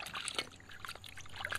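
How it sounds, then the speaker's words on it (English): Water trickling and splashing through a freshly joined pipe, a steady faint pour with small gurgling bursts, close by and without talk. "run some water through it"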